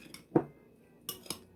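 Spoon clinks and scrapes against a bowl while homemade pico de gallo with tomato and lime is stirred: three or four short, close, fairly quiet strokes separated by brief pauses.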